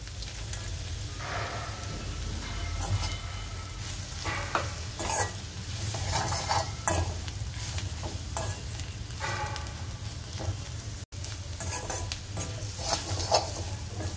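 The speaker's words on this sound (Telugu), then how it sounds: "ఉప్పు కారం వేసిన తర్వాత ముందుగా ఫ్రై చేసి పెట్టుకున్న కాకరకాయ ముక్కలు వేసుకోవాలి" Fried bitter gourd pieces stirred into salt and chilli powder in a pan, giving a steady close sizzle with repeated scraping stirs and clatter throughout, no voices.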